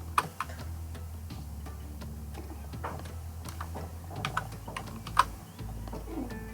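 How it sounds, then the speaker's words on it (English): Quick typing on a computer keyboard while entering text in a web design tool, with a steady run of light close key clicks and a few sharper taps, no talk. "So you can just type drafting."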